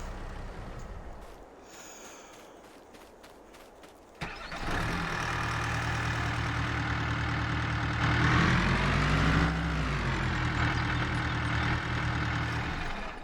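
A tractor engine in Farming Simulator 22 starts up partway through, then runs at a steady, loud idle with a low drone that briefly rises in revs before settling again.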